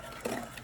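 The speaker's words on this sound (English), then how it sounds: "whisk your roux" Whisking roux in a low, thin-bottomed pot for shrimp creole: a brief, soft scraping swirl of the whisk against the metal, close and fairly quiet, with no talking.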